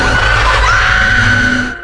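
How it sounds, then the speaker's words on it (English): A loud, sustained scream rises and holds in a dark tunnel as a film sound, with a rumbling low background that fades out at the end. "terrifying screams echoed through the dark tunnel"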